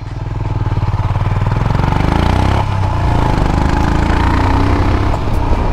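Royal Enfield Himalayan motorcycle riding along country lanes at over 20 mph, its single-cylinder engine thumping loud and close with a steady pulsing beat and rising road and wind noise.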